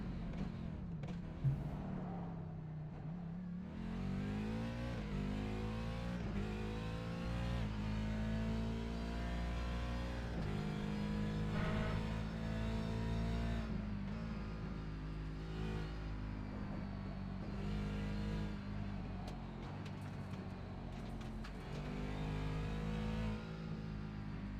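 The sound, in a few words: race car lapping Circuit of the Americas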